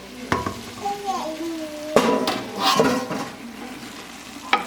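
Vegetables hit a warm roux in a large pot for seafood gumbo and sizzle, with scraping stirs and utensil clatter against the pot, close up, while a person speaks briefly over it.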